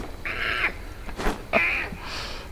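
A deer in the H1Z1 video game lets out strained, crow-like squawking cries as it is punched, two long calls with a dull thud between them, loud and close.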